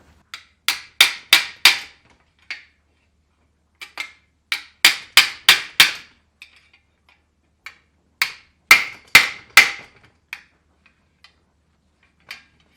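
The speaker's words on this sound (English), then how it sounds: "We just hammered it into that corner with a body hammer" Sharp metallic blows of a body hammer on sheet metal held against a dolly, shaping it into a corner on a Chevrolet C10 truck, struck in quick bursts of three to five hits with short pauses between, close and loud.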